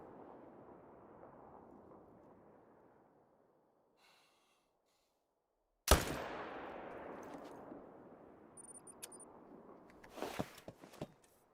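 A single sharp rifle shot at a black bear in a hunting game rings out after a soft ambient hush, its echo fading over several seconds, followed by scattered rustling thumps.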